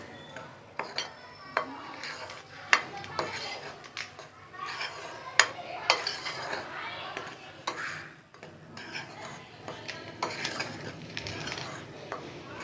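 Yeast powder being mixed with other pizza dough ingredients in a bowl: irregular clinks, taps and soft scraping, close and fairly quiet, running steadily throughout.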